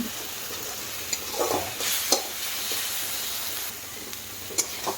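Tomato masala fries in a pan with a steady hissing sizzle, a few scraping stirs and small pops, close and with no talk.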